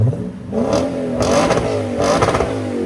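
A 2008 Lexus IS F 5.0L V8 with muffler delete blips its throttle: two or three loud, close, rasping revs in quick succession over a rumbling idle.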